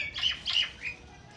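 A one-legged bird being fed gives two sharp, close squawks followed by a softer third call, each brief and harsh against quiet surroundings.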